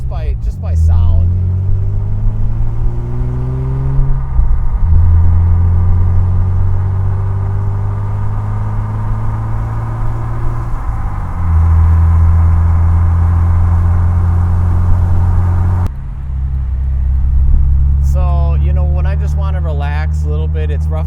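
A car engine with a manual transmission revs up and drops back between gear shifts, rising and falling in pitch several times while a person talks over it throughout.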